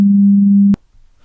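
A single pure low sine tone, one harmonic of a musical note, holds steady and loud for about three quarters of a second, then cuts off abruptly into near silence.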